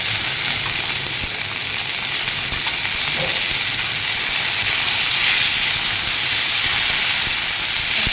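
Whole spices (masala) frying in a pan for thecha paneer, giving a loud, steady hiss and sizzle that runs unbroken throughout with no voices over it.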